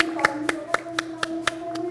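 Clapping at a gathering for tribal children in Bhubaneswar, an even run of about eight sharp claps in a steady beat, with a faint tonal hum and murmur beneath.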